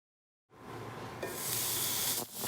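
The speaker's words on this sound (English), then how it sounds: "Nice sizzle." Vegetables hit hot oil in a pan with a sudden close sizzle that starts after a short silence and builds into a steady loud hiss before dipping briefly near the end.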